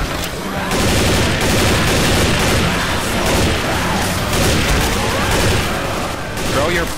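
Grenade blast amid heavy gunfire in a video game, loud and dense booming bursts filling the whole stretch with almost no letup.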